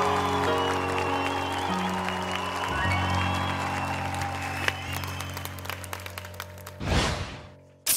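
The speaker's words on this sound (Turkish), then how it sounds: "Alkışlar Danilo'ya gelsin, helal olsun." Studio audience applause at a Turkish TV comedy show, a dense clapping wash under steady music and hum, gradually thinning toward the end, where a loud burst of noise briefly swells before cutting off.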